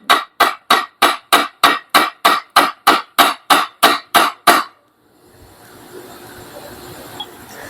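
A hammer taps an oil seal down into a Pulsar RS200/NS200 motorcycle engine: about fifteen sharp, evenly spaced metallic blows in quick succession, close and loud, then the striking stops and a low workshop hum remains.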